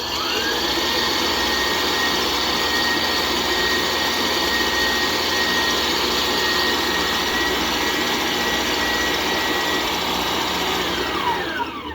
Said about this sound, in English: just before I turn the mixer on